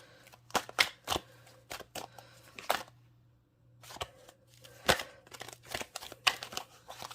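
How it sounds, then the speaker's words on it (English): Tarot cards being shuffled close up, a series of sharp riffling snaps and flicks in uneven bursts with a brief pause midway. "I am shuffling all sorts of clumsy"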